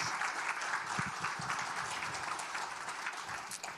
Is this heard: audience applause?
yes